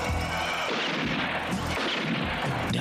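Gunfire from a zombie action film fills the scene, a dense run of loud, booming shots and blasts layered over a continuous noisy background with no pauses.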